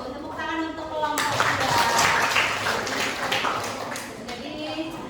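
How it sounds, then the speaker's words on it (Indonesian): Students in a classroom clap for a presentation group, a burst of scattered applause rising after a moment of talk, then fading as a voice resumes alongside it. "Tepuk tangan untuk kelompok"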